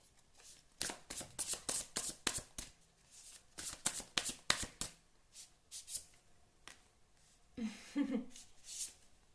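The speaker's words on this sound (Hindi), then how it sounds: "तो और कार्ड्स निकालती हूँ मैं" Tarot cards are shuffled and drawn in a quick run of crisp riffling bursts and flicks, close and fairly soft, with pauses between passes and a brief rustle near the end.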